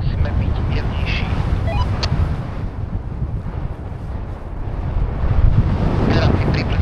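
Gusty wind on a paragliding training hill buffets the microphone in a steady low rumble that swells and eases, with brief faint voices mixed in.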